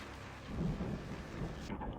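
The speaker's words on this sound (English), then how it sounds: "that storm we all felt coming is finally here" A thunderstorm in the video game Alan Wake Remastered: a low rolling thunder rumble over steady rain and wind, full and continuous, cutting off abruptly near the end, with no voices.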